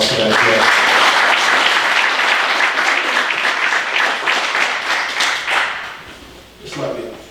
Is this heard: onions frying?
no